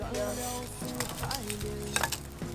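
Ingredients stir-fried in a wok while cooking a clay-pot rice dish, with a close, continuous sizzle and repeated scraping tosses at an irregular rhythm, some tonal background underneath.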